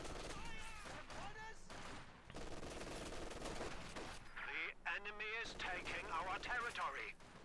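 Light machine gun fire in Company of Heroes 2, repeated bursts and scattered battle shots amid game sounds, with a voice talking over parts of it.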